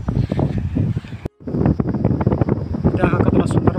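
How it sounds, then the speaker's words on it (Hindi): Wind gusts roar and buffet the microphone near a beautiful temple in a hill village, a loud rumbling rush that cuts out briefly before returning steadily with voices talking underneath. "हवा का आवाज आप सुना"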